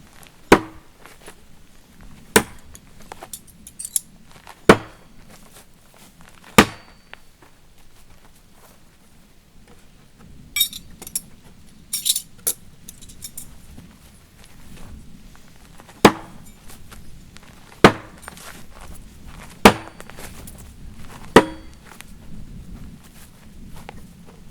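Mosquito throwing knives from Fred Perrin, Wildsteer and Coutellerie Tourangelle strike a wooden target in about nine sharp, loud thuds spaced a few seconds apart, with a brief cluster of lighter rattles between them.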